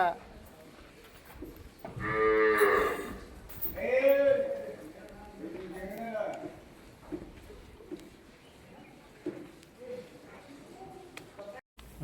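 Two loud, drawn-out cow moos sound close by at a cow shelter, followed by fainter lowing and scattered barnyard noises against a quiet background.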